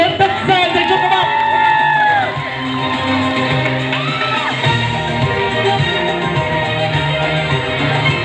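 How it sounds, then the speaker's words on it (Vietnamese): A large crowd at a Hmong pageant event cheering, whooping and shouting over loud music, a dense sustained roar with a singing voice and tones riding on top. "Các bạn cho một tràng pháo tay thật lớn, thật dài dành cho các bạn."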